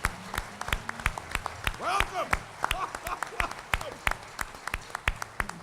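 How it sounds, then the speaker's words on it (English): Scattered clapping from an audience at a 2014 college convocation, greeting new full-time employees, with individual claps spread sparsely under a voice. "please stand and let me give you a round of applause"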